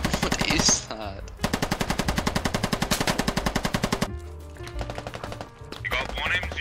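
Rapid machine gun bursts ring out in a first-person squad shooter match, a long sustained stream of evenly spaced shots bracketed by shorter volleys, loud and close with faint voices in between.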